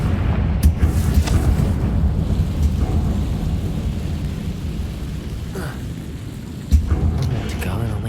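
Confringo fire spell explosion in Hogwarts Legacy, a loud rumbling boom with a low crackling tail that holds steady, a sharper burst near the end.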